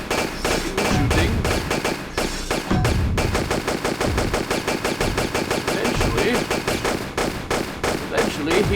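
Lara fires her guns in Tomb Raider II, rapid evenly spaced shots in long loud bursts with brief pauses between volleys.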